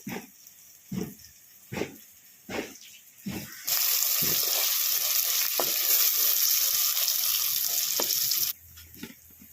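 Fresh homegrown curry leaves drop into hot oil for a village-style fish curry. A few spoon scrapes come first, then a loud, sustained sputtering sizzle that lasts several seconds and cuts off sharply.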